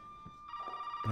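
A telephone rings inside the horror video game Resident Evil 7, a steady electronic tone that swells louder in the second half of the brief moment, with no talking over it.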